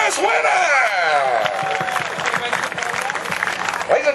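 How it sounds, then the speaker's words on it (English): Audience applause and cheering for the first winner of a royal-themed racing show, a steady crowd clapping with whoops and an announcer's voice carrying over the top. "a nice round of applause for a lucky first winner"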